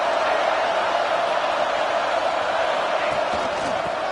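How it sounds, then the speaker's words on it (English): A college football stadium crowd roars near the goal line, a loud, dense, sustained wash of cheering and noise with no distinct breaks, heard from within the stands. "the crowd really making some noise now, trying to help out this defense to get this stop near the goal line"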